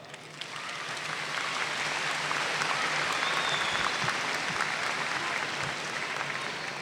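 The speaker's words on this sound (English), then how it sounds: "Give yourselves a round of applause." Families in a high school graduation audience applaud in a long, steady wash of clapping that swells in and holds evenly, heard from a distance in a large hall.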